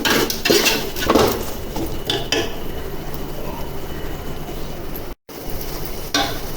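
Mutton seasoned with rock salt for Nellore-style dum biryani is stirred in a pot, metal scraping and clinking steadily up close with a few sharper knocks and a faint sizzle underneath, no voices.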